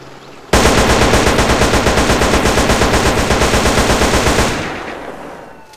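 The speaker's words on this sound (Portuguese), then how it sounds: "Essa arma tá muito louca" Loud continuous automatic fire from a modded weapon in GTA San Andreas, a rapid even stream of shots lasting about four seconds before tailing off, close and alone with no talk.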